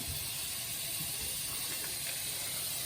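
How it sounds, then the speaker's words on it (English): A stick of butter browns in an already hot pan, giving a steady, even sizzle and hiss that holds without a break throughout. "first we're going to put a stick of butter into the pan"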